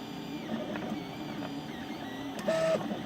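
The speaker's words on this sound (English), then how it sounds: "you can see the buildup on the bottom wheel from where it's grinding the filament" A 3D printer grinds filament at its feed wheel, where buildup has formed on the bottom wheel; a steady mechanical whir runs throughout, with a brief louder tonal burst near the end.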